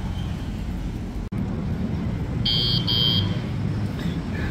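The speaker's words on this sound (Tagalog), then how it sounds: "Kulit ko, naka-alarm nga pala." A vehicle alarm gives two short, bright electronic beeps close by, over a constant low rumble of road and engine noise.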